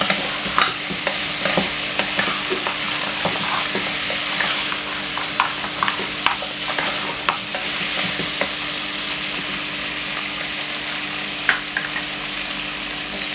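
Meat fries in a pot while being stirred, a constant loud sizzle broken by repeated scraping and clacking strokes of the utensil, with no one speaking.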